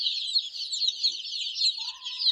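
A dense, steady chorus of high-pitched cheeping from many 20-day-old chicken chicks on a farm, continuous and close, with no talking.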